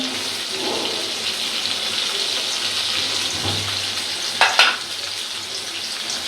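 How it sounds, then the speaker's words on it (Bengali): Onions hit hot oil for a shrimp curry and fry with a strong, even sizzle. A brief clatter of stirring rises just past the midpoint, then the frying settles back into a steady hiss. "তেল গরম হয়ে গেছে পেঁয়াজ দিয়ে দিলাম"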